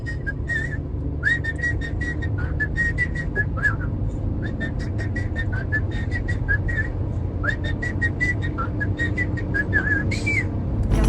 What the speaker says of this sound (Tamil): அவன் வாயை திறக்காம விசில் அடிப்பா.